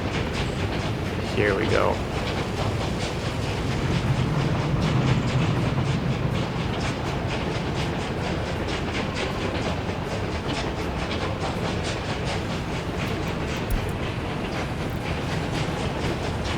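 Train wagons roll along the rails in the Workers and Resources city-building game, a steady rumbling clatter with rhythmic clicks that stays constant, while a voice speaks briefly near the start.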